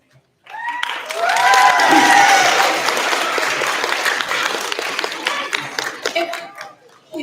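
Audience applause at a sixth grade advancement ceremony for Sage Hills, a steady burst of many hands clapping that swells quickly, holds for several seconds and trails off, with light cheering mixed in.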